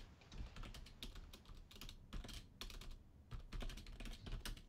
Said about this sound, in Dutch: Wie typt daar zo furieus op zijn toetsenbord?